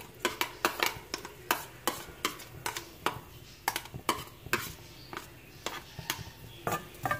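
Onions are turned in a frying pan until golden, with a rhythmic series of sharp spoon-against-pan scrapes and clinks, about two per second, over a faint background sizzle.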